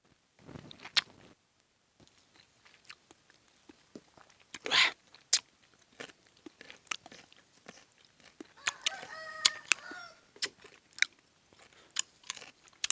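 Chickens cluck and a rooster crows somewhere off to the side in a rural Thai setting, the calls fairly faint amid scattered knocks, clatter and handling noises from nearby cooking.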